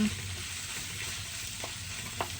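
Tomatoes for a Tamil fish fry sauté in a hot pan, giving a steady, close sizzle that runs throughout, with a couple of faint stirring taps near the end.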